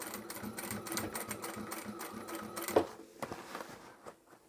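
A sewing machine runs steadily in close, rapid stitching bursts while triple stitching the reinforced side seam of a fabric basket, then slows and stops near the end.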